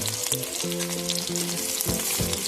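Chopped onion, two dried red chillies and a little sugar fry in oil for a snail curry, a loud, close, continuous sizzle with a steady tonal hum running through it.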